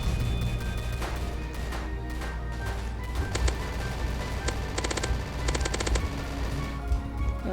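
A minigun fires continuously in a zombie video game, a loud, dense stream of rapid shots with crackling bursts running unbroken throughout, no voices.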